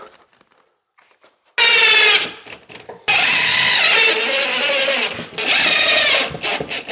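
Power drill driving screws to fasten a cabinet into wall studs, heard as two long, loud whirring bursts after a quiet start, with a brief pause between them and a trailing spurt of tool noise.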